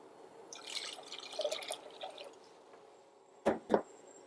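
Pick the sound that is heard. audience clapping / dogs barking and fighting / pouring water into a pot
pouring water into a pot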